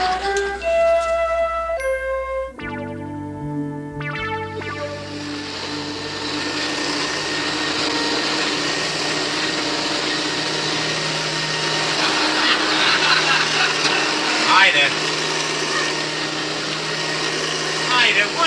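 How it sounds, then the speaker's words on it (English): A vacuum cleaner drones steadily over a rug at night in a home, a loud continuous whine that starts after a short musical sting and runs throughout. "I'm vacuuming the rug."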